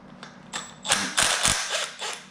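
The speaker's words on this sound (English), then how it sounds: "I'm going to take the left bolt of the tensioner off" Ratchet wrench with a 10 mm socket loosening the outer bolt on a K20 engine's timing chain tensioner, a series of quick clicking and ratcheting bursts, close and moderately loud, with no talking.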